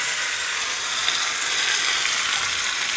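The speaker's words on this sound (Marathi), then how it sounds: "तेल तापलं की आपण ही जिरे मोहरी टाकूयात" Cumin and mustard seeds hit hot oil for a tempering, giving a dense, bright, continuous sizzle, close and loud, with no voices over it.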